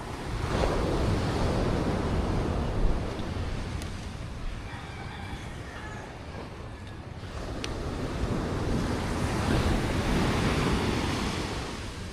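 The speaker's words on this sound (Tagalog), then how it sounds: "Oh, malaki ang alon." Large sea waves roll and crash onto the shore in a continuous loud roar, swelling and easing, with wind buffeting the microphone.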